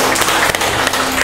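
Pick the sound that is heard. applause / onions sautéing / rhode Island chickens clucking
applause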